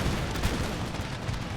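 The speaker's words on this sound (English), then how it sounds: "Oh, canister shot." Cannons firing canister shot in Empire Total War, a dense burst of overlapping booming blasts and crackling impacts filling the whole short moment.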